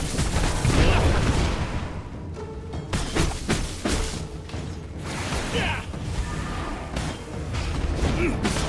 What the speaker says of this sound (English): You need to dodge 3 lines of unholy explosions.